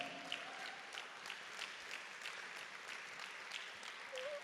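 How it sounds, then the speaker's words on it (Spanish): Church congregation applauding to God during a service, a fairly quiet, even spread of many hands clapping in a reverberant room, with a faint short tone near the end. "Da un aplauso a Dios."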